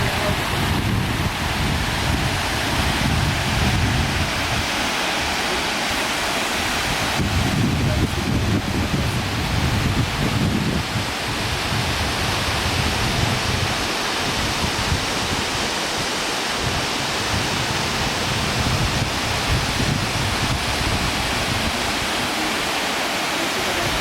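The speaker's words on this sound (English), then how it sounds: "So we're finally here by the waterfall." Waterfall at Walter Sisulu botanical garden, a loud, steady roar of rushing water heard from close by, broadband and unbroken, with some wind buffeting on the microphone and no voices.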